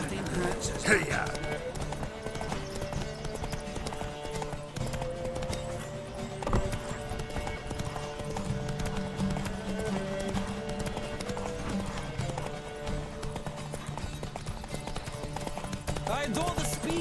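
Galloping horse hooves in The Witcher 3 video game drum in a quick, continuous rhythm throughout, mixed with game music and voices.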